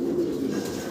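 A pair of large potter pigeons coo in low, soft, continuous murmurs, close by and steady, with no talking over them.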